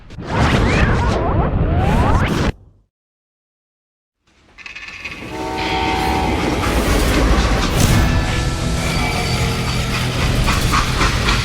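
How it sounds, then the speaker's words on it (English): In a Western video game, a freight train rumbles and clatters along the rails, cuts to a brief silence, then returns with steady rolling noise and metallic squeals. "How'd they stop this train in the first place?"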